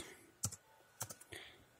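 Keys click in small bursts as a password is typed on a Mac computer keyboard, quiet and close, a few taps then a pause and another short run.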